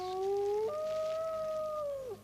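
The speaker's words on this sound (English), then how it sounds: "we heard a howling noise" A single drawn-out howl carries through the night air, wavering in pitch, stepping down partway through and trailing off after about two seconds, clear and steady with no other sounds around it.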